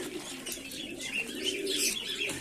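Pigeons coo at night during feeding, a soft rolling coo repeated under light chirps from nearby birds, close and continuous with no talking.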